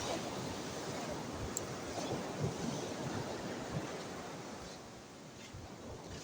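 Strong waves crash and surge continuously on a beach in Ilocos Sur, a dense roar of surf with steady wind across the microphone, loud and close throughout.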